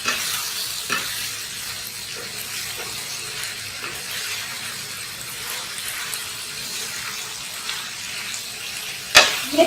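Onions for chicken do piaza fry in a pan with a steady, moderate sizzle and occasional stirring scrapes, ending in a sharp clink of utensil against the pan.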